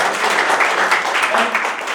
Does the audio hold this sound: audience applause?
yes